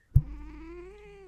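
A grumpy female cat lets out one close, drawn-out grumbling meow that starts with a short sharp burst and holds a steady, slightly rising tone, with no talking over it.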